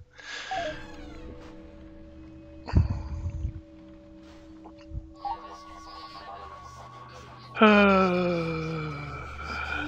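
A pet cat whines and meows in drawn-out, wavering cries, loud and close, with quieter stretches of faint background noise between the longer calls.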